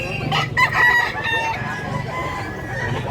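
A rooster crows once nearby, a loud drawn-out call over constant low ambient noise at a rural market.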